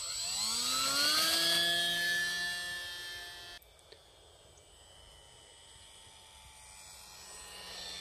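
E-flite Pitts UMX, a small radio-controlled model biplane, whines overhead with a rising, then steady electric-motor tone that fades as it moves farther off outdoors.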